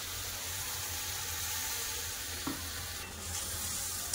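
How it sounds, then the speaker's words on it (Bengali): Spices with ginger, garlic and onion fry and are stirred in a pan, a steady close sizzle with occasional scrapes of the spoon, no talking. "মশলা কষা হচ্ছে"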